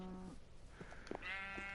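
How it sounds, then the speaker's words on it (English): Several sheep bleat on a Minecraft sheep farm, short wavering calls that overlap in quick succession, fairly quiet and close, with no talking. "agriculture sheep farm"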